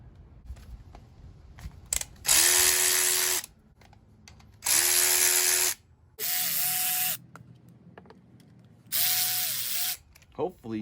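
Loud bursts of an air or power ratchet remove a brake line on a Dana 44 axle from a 1978 Power Wagon, four whirring runs of a second or so with quiet gaps and faint background talk.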